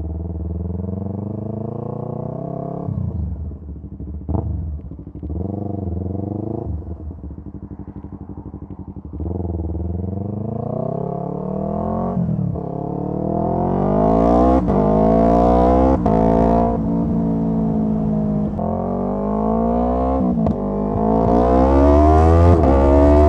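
A Yamaha R3 motorcycle fitted with a +3 rear sprocket is ridden with the camera mounted on the bike; its engine drones steadily, then revs climb in repeated loud pulls with brief dips between gear changes, close and continuous.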